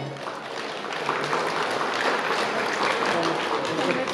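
Wedding guests at a Kazakh bride's farewell feast break into applause, a dense, steady clapping that swells after the first second and holds loud to the end, with crowd voices mixed in.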